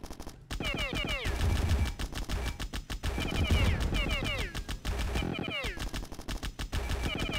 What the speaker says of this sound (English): I can just sit here and shoot.